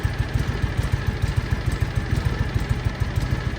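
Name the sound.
John Deere Gator 6x4 utility vehicle engine running on one cylinder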